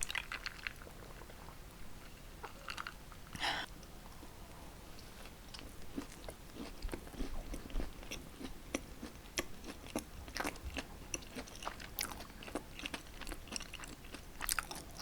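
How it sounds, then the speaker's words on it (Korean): Close, crisp crunching and biting of a Krispy Kreme Christmas doughnut topped with chocolate, white chocolate, peanut cream and heaps of coconut flakes, with steady repeated chews and no talking. "위에 코코넛 가루가 엄청나게 많이 뿌려져 있거든요. 그래서 사각사각 씹는 맛도 너무너무 좋아요."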